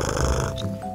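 A voice imitating loud snoring, a short rough guttural rattling snort under a second long, close and full.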